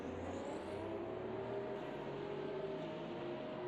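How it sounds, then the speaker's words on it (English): Simulated race cars run through turn 7 at Sebring, heard as a faint, distant, steady engine drone with a constant whine. There is no talk. "you can see a good view of the cars coming through turn 7"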